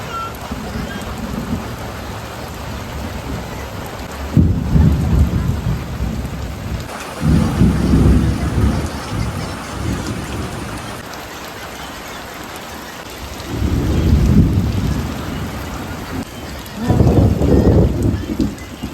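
The season's first rain pours down on a village in Botad, with heavy thunder rolling in several long, loud bursts over the steady hiss of the downpour.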